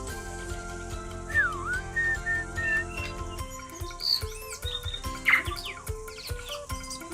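A tui calls in a New Zealand forest, sharp whistles and chirps rising and falling over a steady bed of cicada-like buzzing and background music, with a louder burst of notes midway.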